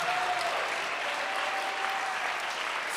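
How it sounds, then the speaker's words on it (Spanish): Church congregation applauding in a sustained, dense ovation to God, steady and loud throughout with no pauses. "¿Por qué no le damos entonces una fuerte alabanza, una fuerte ovación a nuestro Padre?"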